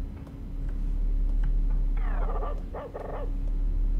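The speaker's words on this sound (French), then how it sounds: "Il y a beaucoup de bruit de chien." Dogs bark in the video game Watch Dogs Legion, a few short yips and barks sounding over a constant low game hum and background ambience, moderately quiet and without speech.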